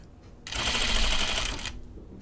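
Home sewing machine stitching a dress with thread and a size 14 needle, one short burst of rapid mechanical whirring lasting about a second, close and fairly quiet, starting and stopping abruptly.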